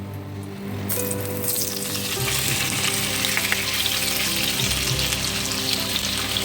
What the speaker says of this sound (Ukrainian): сковородка наша нагрілась, олійками ми ще даємо грибочки